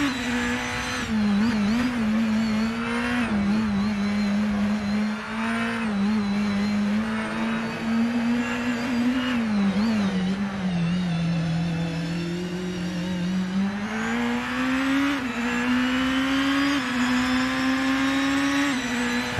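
BMW DTM race car from the 2018 season in Assetto Corsa, on TT Circuit Assen: a loud, steady engine drone fills the whole stretch, pitch rising and dipping through corners and shifts, close and continuous with no talking.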